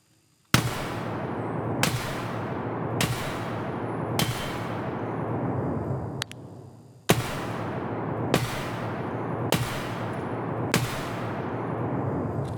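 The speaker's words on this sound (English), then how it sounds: "Now that we've modded the weapon, let's give it a try in the firing range." Single shots from a modded MK18 rifle on a firing range in Escape from Tarkov ring out one by one, about eight loud sharp cracks each trailing off in a long echoing decay, spaced roughly a second apart, with no talking.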